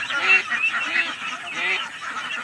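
Large ducks in a rearing pen give repeated nasal, honking calls, several overlapping close by in quick bursts.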